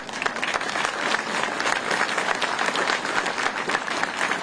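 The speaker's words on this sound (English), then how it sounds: "I'm afraid I'm going to have to ask you for yet another round of applause." An audience gives a dense, steady round of applause for Medal of Honor recipient Captain Larry Taylor, many hands clapping at once with no break across the few seconds.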